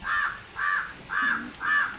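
A crow caws four times in an even, spaced rhythm, each call loud, harsh and close, with quiet gaps between.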